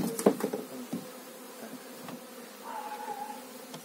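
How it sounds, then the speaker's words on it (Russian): Honeybees buzz steadily around an open hive as brood frames are handled, a soft continuous hum with a few closer passes and light handling knocks near the start. "Ну, пчелы здесь немного"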